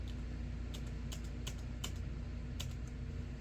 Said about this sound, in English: You heard that clicking. My computer's right near me.